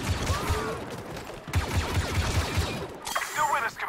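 Rapid blaster fire in Star Wars Battlefront 2, bursts of repeated shots in quick rhythmic volleys mixed with other battle noise and effects, fairly loud throughout.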